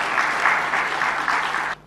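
Strong, steady applause from an audience at a Tanzanian government ceremony, close and full for nearly two seconds before cutting off abruptly.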